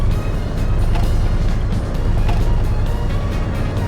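Simulated bus engine from the Tokyo Bus Guide game, a steady low droning idle with a continuous rumble throughout, loud and alone without talk.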